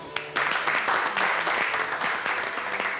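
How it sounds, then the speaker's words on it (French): A studio audience at a televised poker show bursts into loud, dense clapping that starts abruptly and carries on steadily, with faint music underneath. "On peut l'applaudir."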